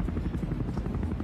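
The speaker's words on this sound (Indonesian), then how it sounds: "Diikuti juga dengan pesawat, tiga buah pesawat A109." A109 helicopters fly overhead during a national aerial display in Malaysia, giving a loud, continuous rotor throb with rapid low pulsing and a dense engine roar, close and without talking.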